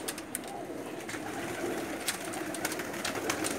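Pigeons belonging to a keeper's loft cooing steadily, soft low murmurs with a few brighter call notes over a constant hum of background noise.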